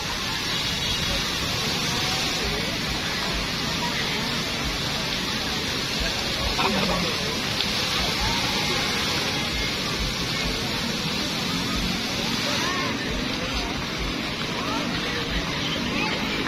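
A water fountain splashes at night during an arts month celebration in Silay City, Negros Occidental, giving a steady broadband wash of falling water with faint crowd murmur mixed in.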